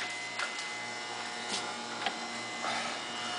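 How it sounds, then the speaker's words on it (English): A standard 120-volt DC gearmotor drives a flex shaft wire stripper through a gearbox, giving a steady whirring electric hum with a high tonal whine. Faint ticks and soft swells recur through the run, and nobody talks. "a standard DC motor"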